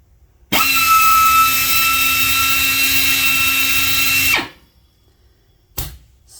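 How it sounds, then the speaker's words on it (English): An 18-inch air belt file, half an inch wide and rated at 4 CFM, starts abruptly and runs loud and steady with a high pneumatic whine for about four seconds, then cuts off, followed by a brief short burst. "And then last, we've got an air band file."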